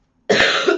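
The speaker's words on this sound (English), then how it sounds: "I do apologise for coughing." A single sharp, close cough bursts out after a moment of silence, loud and harsh, lasting about half a second.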